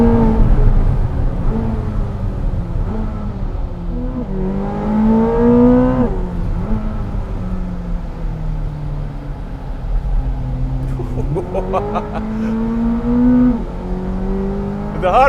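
A 1,064 hp Chevrolet Corvette ZR1 runs at high speed around the Circuit of the Americas race track, its engine roaring loud and close, pitch climbing through the gears and dropping on shifts and lifts.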